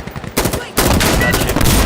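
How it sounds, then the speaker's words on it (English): Heavy gunship gunfire in the shooter game Insurgency Sandstorm: after a short lull, a dense, continuous roar of rapid shots erupts and holds loud to the end. "Gunship is here."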